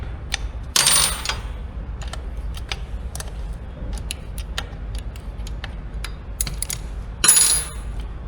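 Metal wrench ratcheting and clicking on a bolt during a tire change on a Kove 450 Rally motorcycle, with a run of small close ticks plus two louder bursts of rattling metal near the start and end.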